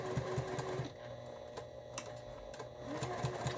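Sewing machine stitching layers of house slipper fabric, a steady close mechanical whir with rhythmic needle ticking running nearly continuously, briefly slowing midway before picking back up.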